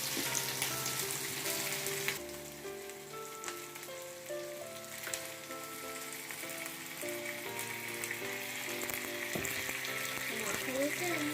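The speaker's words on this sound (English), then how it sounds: "we need to fry it really nicely" Lamb curry frying in a pan as tomato goes in: a steady, busy sizzle and crackle close up, with background music playing throughout.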